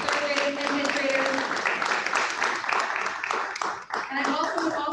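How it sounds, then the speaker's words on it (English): A crowd at a Board of Education meeting claps for students, a brisk continuous patter of many hands with a voice talking over part of it. "Big round of applause again."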